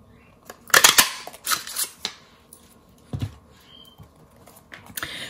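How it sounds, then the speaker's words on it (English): A turtle-shaped paper punch cuts a shape from paper: a few sharp, close clicks and crunches, with small rustles and handling taps between them. "Now we're going to take the turtle punch and cut it out."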